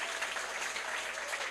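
A crowd at a political party's youth committee appointment ceremony gives a short burst of steady, even applause, close and continuous for the whole brief moment.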